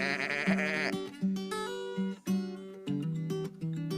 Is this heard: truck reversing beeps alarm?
no